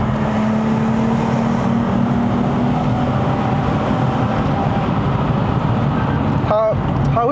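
Engine of a Lexus IS350 convertible climbing a mountain road, a loud continuous drone with road and wind rumble close by, tone steady then shifting near the end.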